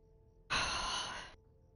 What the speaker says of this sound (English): I hear breathing.